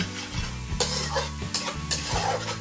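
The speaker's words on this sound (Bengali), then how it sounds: "সবকিছু এবার ভালোভাবে মিশিয়ে নেব।" Spices with Kashmiri red chilli powder and a little ground coriander get stirred in a pan, with a few distinct scraping strokes over a faint sizzle and a low steady hum, close and unhurried.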